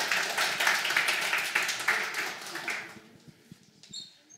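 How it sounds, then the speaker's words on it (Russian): An audience at a programming talk applauds to welcome the speakers, a dense burst of clapping that thins out and fades over a few seconds. "Давайте поприветствуем докладчиков бурными аплодисментами"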